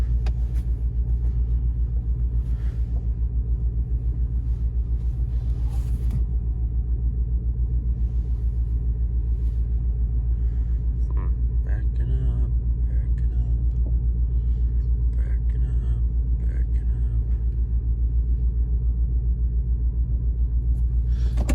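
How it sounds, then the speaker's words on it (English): A vehicle engine rumbles steadily while backing up to a trailer, a loud deep idle drone heard from inside the cab throughout, with faint clicks and knocks over it. "Right now I'm backing up to the trailer right now."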